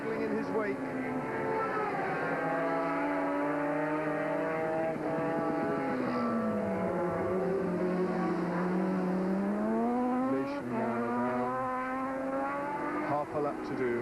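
Vintage Norton racing motorcycle laps a circuit with the engine note rising and falling as it passes, while a race commentator talks continuously over it.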